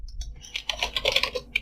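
Quick bursts of keystrokes on a computer keyboard while entering terminal commands, close and crisp with short irregular clusters of clicks.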